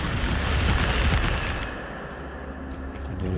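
The Incendio fire spell cast in the video game Hogwarts Legacy, a loud roaring whoosh of flame and crackling rumble that swells and then fades into a softer hiss.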